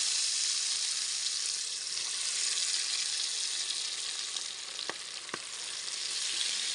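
Food sizzles loudly and steadily in hot oil in a home kitchen, a constant close frying hiss with a couple of brief clinks near the end and no talking.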